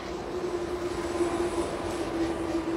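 A passing train gives a steady, loud rumble with a constant droning hum for the whole few seconds. No other sounds stand out.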